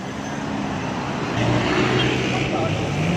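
A car on a road test after a brake repair drives along with a steady engine and road hum, with no voices and a slight swell midway.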